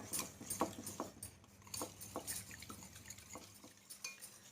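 A spoon stirs a kharvas mixture of colostrum milk and powdered sugar in a pot. It makes repeated scraping strokes with light metallic clinks, close by and fairly quiet, with no voices.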